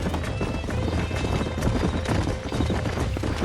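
Horses in Red Dead Redemption trot with a steady clip-clop of hooves, a neigh or whinny mixed into the rhythmic galloping, at moderate loudness.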